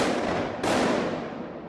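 A police tactical unit's battering ram slams into a door during a raid, a single sharp, loud crashing impact partway through that rings out and decays over a second, after a short burst of noise.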